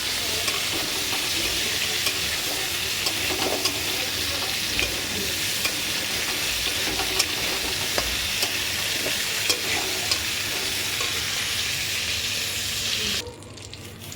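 Spice paste sautéing in a pan makes a dense, continuous sizzle with faint stirring scrapes throughout, close and steady, dropping in level just before the end.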